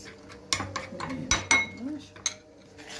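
A spoon stirs a shrimp mixture in a bowl, scraping and clinking against the sides in irregular bursts with several sharper metallic chinks, close and fairly loud, alongside a faint voice.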